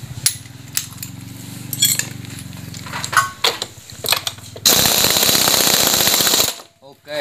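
A pneumatic impact wrench rattles in short bursts, then a long loud continuous hammering burst, with a voice briefly audible around it, during steering head bearing work on a Honda RSX motorcycle.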